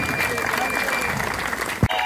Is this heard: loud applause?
yes